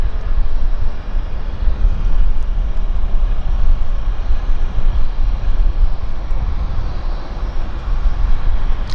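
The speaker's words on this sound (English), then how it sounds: "Well, I hear corporate aircraft." Corporate aircraft at Vancouver Airport, a broad steady engine roar that holds loud and even throughout, heard from some distance with no voices.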